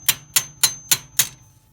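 A hammer shapes a flute into the steel skirt of a breastplate in an armour workshop, striking five evenly spaced, sharp metallic blows. The impacts are close and ring briefly.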